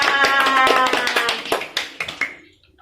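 A small group of schoolchildren and a teacher clap together in a primary-school classroom, a short burst of sharp, uneven hand claps that trails off into a few scattered claps and then silence.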